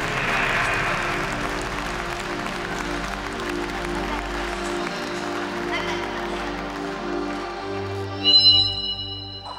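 Concert audience applauding at a show, a steady wash of clapping with a crowd murmur, music tones underneath and a brief louder swell near the end.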